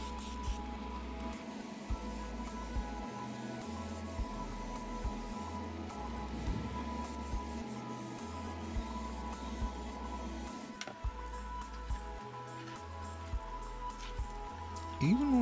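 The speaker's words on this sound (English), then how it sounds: "I'm using my Iwata single action siphon feed for this. It lays down a good even coat in a hurry without a lot of overspray" An Iwata single action siphon feed airbrush sprays paint with a soft, steady hiss lasting throughout, fairly faint and close, with light background noise and a brief louder sound at the end.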